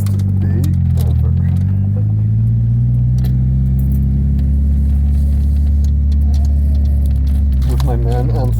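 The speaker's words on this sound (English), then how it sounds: "Off we go in the 205 Turbo." A Peugeot 205 GTi Turbo accelerates from inside the car, its engine droning in a steady, loud, low rumble that builds slightly toward the end, with only faint talk in the background.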